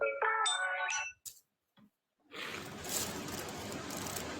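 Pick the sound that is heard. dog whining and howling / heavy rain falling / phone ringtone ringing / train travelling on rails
phone ringtone ringing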